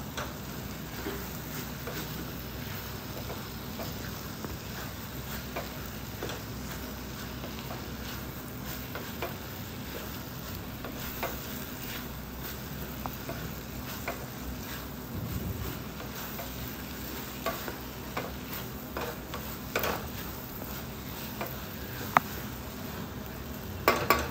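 A mutton dish sizzling in a pan as it is mixed, a long steady frying hiss with scattered light ticks and scrapes from stirring, moderately loud and without talk.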